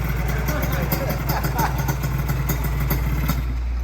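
A Kawasaki KR 150 two-stroke motorcycle sits idling nearby with a steady, slightly uneven putter, and voices talk over it.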